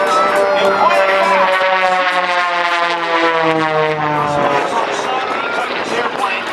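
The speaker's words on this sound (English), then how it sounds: "Two airplanes flying as one." Military aircraft engines drone loudly with a rising and falling pitch as two planes fly overhead in formation at an air show demonstration, under a crowd's murmur and a voice over loudspeakers.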